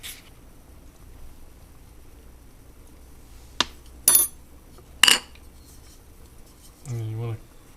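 A utensil stirs Sabrett's-style onion sauce in a pot, giving a few short, sharp clinks and scrapes spaced a second or so apart over a quiet background, followed by a brief low rumble.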